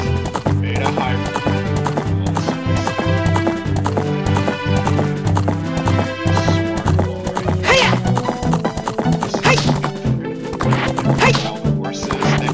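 In the Ocarina of Time beta video game, horse hooves clip-clop in a busy, driving rhythm while horses neigh and whinny, all loud and dense throughout.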